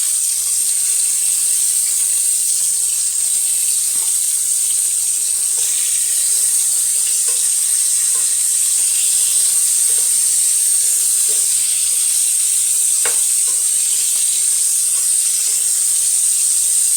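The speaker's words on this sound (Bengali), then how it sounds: "মাছটা ভেজে নিব।" Hilsa fish head and tail pieces frying in hot oil in a pan, a steady loud hiss and sizzle that holds evenly throughout, with a few faint clinks and no speech.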